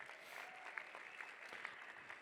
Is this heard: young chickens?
no